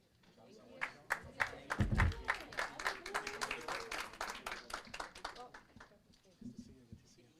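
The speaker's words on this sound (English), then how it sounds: "Can we give another round of applause for the team at Moreno Valley Utility, please?" A council meeting audience breaks into applause, a dense burst of clapping that swells quickly, holds for several seconds and then thins out, with a voice speaking over it near the end.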